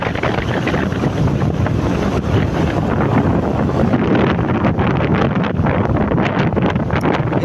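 Heavy wind roaring over the microphone while riding a motorcycle along a rural road in Northern Samar, loud and continuous buffeting with no voices.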